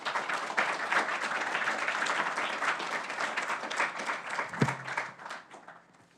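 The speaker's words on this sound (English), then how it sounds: "let's give her a round of applause" An audience at a faculty awards and promotion celebration gives a round of applause, dense steady clapping that thins and fades out toward the end.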